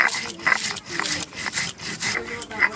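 Fried spices ground by hand on a village grinding stone, a rhythmic rough rubbing scrape repeating in quick strokes, close and fairly loud.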